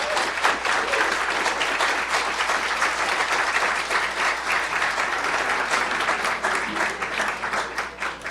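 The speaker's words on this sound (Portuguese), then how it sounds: "Um salve de palmas, por favor." Audience applause at a public talk in Brazil: dense, steady clapping from a crowd that fills the whole stretch at an even level, with no voices over it.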